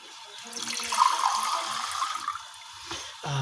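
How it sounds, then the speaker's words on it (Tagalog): Water pours and splashes into a pot close up, a bright rushing stream that swells, then tapers off before a clunk at the end. "Lagyan po natin ng tubig."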